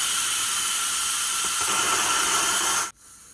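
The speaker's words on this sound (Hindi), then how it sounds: "जिस तरह से अभी ये प्रेशर कुकर रोला डाल रहा है ना" A pressure cooker on a kitchen stove hisses steam in a loud, steady stream, then cuts off abruptly near the end, leaving only quiet background.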